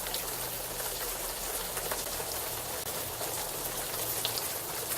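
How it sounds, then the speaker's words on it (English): Warm rain falls in the Unavowed video game, a steady close wash of droplets hissing on surfaces throughout, without any voices. "the warm rain is coming down"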